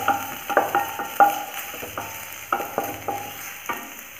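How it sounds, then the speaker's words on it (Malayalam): Drumstick leaves fry in ghee for a soup, giving a soft sizzle broken by a series of sharp, close spoon clinks and scrapes against the pan as they are stirred. "ഇത് ഈ നെയ്യിലിട്ട് ജസ്റ്റ് ഒന്ന് നമുക്കൊന്ന് മൂപ്പിച്ചെടുക്കാം"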